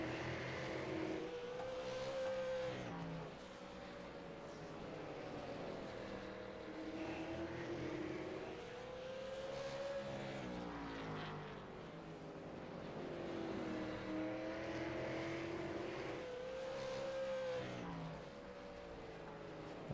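Race cars in the iRacing sim roar around the short track at South Boston during the Limited Outlaw Super Series York 125, engine pitch rising and falling in repeated sweeps as the pack laps, steady and continuous with no talk.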